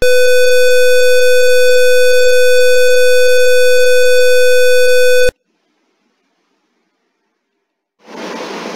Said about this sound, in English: that's a set of conditions that make the alarm sound